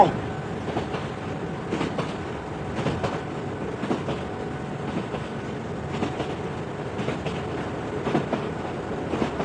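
A train rumbles over a bridge with a rhythmic clickety-clack of wheels over the rails, steady and moderately distant.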